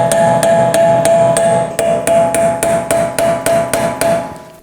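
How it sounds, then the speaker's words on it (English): Sharp metallic hammer blows strike a steel punch against a car's rear axle shaft in a steady, rapid series of about sixteen hits, close and loud, with a faint ringing tone lingering between strikes. "I'm gonna take a punch and hammer and hit along the axle in the center divot"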